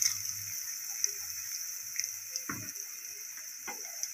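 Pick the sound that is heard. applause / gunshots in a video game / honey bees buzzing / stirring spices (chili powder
stirring spices (chili powder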